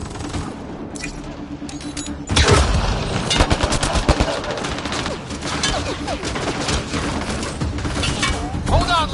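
Sustained gunfire in the Mass Effect Andromeda video game, rapid overlapping shots and bursts with impacts, loud and continuous after a sharp onset, with game music and voices in the mix.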